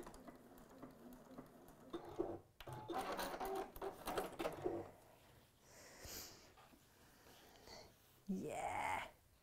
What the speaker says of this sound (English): So I'm just going to stitch on that line and I'm going to do, again, a holding stitch.